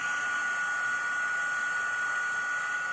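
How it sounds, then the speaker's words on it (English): An embossing heat tool blows continuously over a card, a close, even airy whoosh with a thin steady whine and no pauses or voices. "we are ready to hit it with the heat tool. And we're just going to heat this up."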